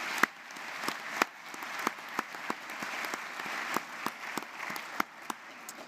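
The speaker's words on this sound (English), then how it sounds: "Let's give them a round of applause." An audience at a college commencement applauds the public safety department's color guard, with steady, moderately distant clapping and a few sharper individual claps standing out.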